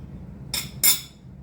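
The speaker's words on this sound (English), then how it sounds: "I'm going to just cut it in the middle" A knife cuts through the middle of a crispy keto empanada filled with spinach, feta and ground sausage, making two sharp close crunches about a third of a second apart against a quiet background.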